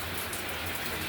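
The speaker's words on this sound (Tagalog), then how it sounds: "Malakas ang ulan ngayon itong araw na to." Heavy monsoon rain falls steadily, a dense, unbroken hiss of downpour over a short stretch with no talking.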